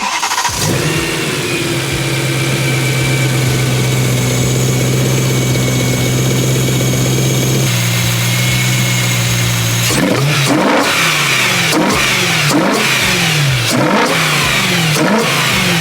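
A BMW car engine with open velocity stacks cranks and starts, idles loudly up close, then revs repeatedly in sharp, rising bursts.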